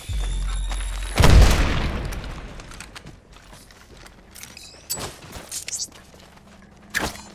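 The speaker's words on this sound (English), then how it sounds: "Incoming grenade." A grenade goes off in a shooter video game with one loud, deep blast and a rumbling tail, then quieter mechanical clicks and thuds, with a couple of sharper hits near the end.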